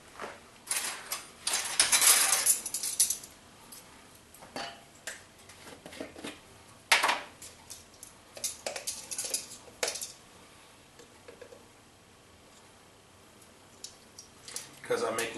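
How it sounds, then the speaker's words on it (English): Spoon clinking and scraping against a bowl while cinnamon and other spices are stirred into homemade pumpkin pie filling, in uneven bursts close to the mic with quiet pauses between. "next thing we're going to do is we're going to start stirring in our spices"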